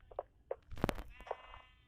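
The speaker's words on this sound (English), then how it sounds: "I have a sheep farm" Sheep on a farm in the Minecraft video game bleat in a few short, soft calls spaced across a quiet moment, with no talking.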